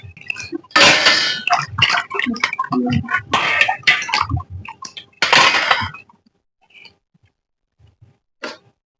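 Steel dishes and utensils being washed, with a busy run of metallic clinks, clatters and splashy scrubbing, close and fairly loud, then a sudden drop to near silence with one last faint clink.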